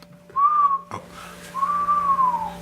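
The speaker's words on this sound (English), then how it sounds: "Goddamn whistle. I'm a whistler." A person whistles two sustained, gently wavering notes, separated by a brief knock, close and clear with no talking.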